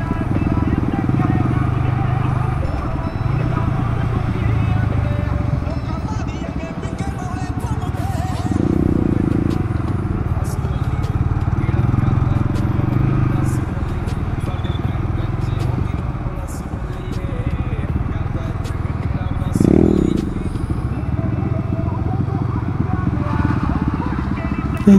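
Motorcycle engines idle and rumble at an outdoor bike meet, with occasional louder revs rising over a steady background of crowd voices and nearby talking.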